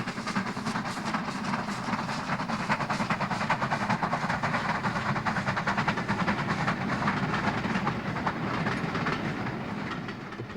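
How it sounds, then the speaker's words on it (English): Two BR Standard 4-6-0 steam locomotives pounding past on an up express, a dense, steady roar of exhaust and rolling carriages with rhythmic clatter, loud and close for the whole stretch. "two BR standard 460s pound past on an up express"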